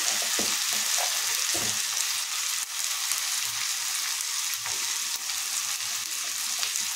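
Onion and tomato sizzle steadily in hot oil as spices go into the pan one by one, a continuous close frying hiss with a few soft stirring knocks and no talking.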